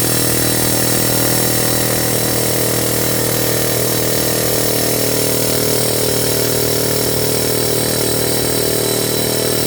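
An air chisel hammers continuously on the front driveshaft of a 2007 Mercedes S550 4Matic, a loud, dense rattling drone that stays steady and close throughout.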